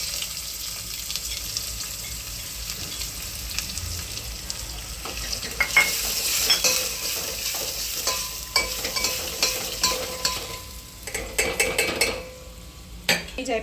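Chopped onions fry in a pan with a steady, close sizzle, which grows busier midway as stirring adds scraping and clattering against the pan.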